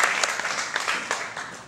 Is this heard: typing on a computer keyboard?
no